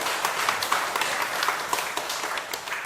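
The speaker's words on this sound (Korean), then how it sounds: "박수 부탁드립니다" An audience at a Buddhist question-and-answer talk gives a steady round of applause, many hands clapping together at moderate volume for a few seconds, with no speech over it.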